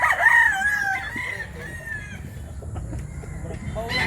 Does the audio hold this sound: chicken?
yes